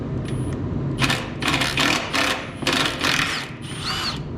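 A power tool backs out the last radiator bolt on a Minneapolis Moline A4T tractor, running in several loud, close whirring bursts with brief pauses between them, heard alone.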